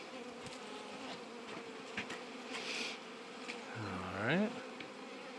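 Honey bees buzz faintly around an open spring hive, a low steady hum with a brief louder rising drone near the end as one passes close; a voice speaks briefly.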